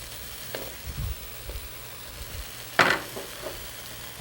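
Raisins dropped into a hot pan of frying apples and spices, with a low steady sizzle broken by a few soft stirring knocks and one louder splash-like burst partway through.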